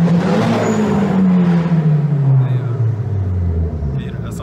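Revving engine of an SR20-swapped Nissan S13 240SX with popping exhaust, a loud close rumble whose pitch slides down as it settles, with a few sharp crackles late on and someone talking over it.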